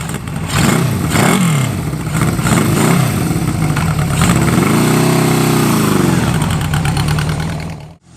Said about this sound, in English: With the fuel leak fixed, it was now time to take the bike on its first test ride